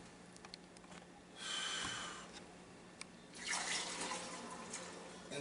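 A thick dissolved sugar solution for hard cider is poured into a funnel in two close pouring bursts, with splashing and trickling and quieter pauses between them.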